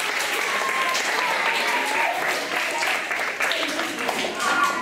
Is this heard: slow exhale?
no